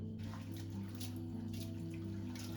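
Tap water runs into a kitchen sink while a plate is washed, a soft steady splashing stream with faint clatter, heard quietly.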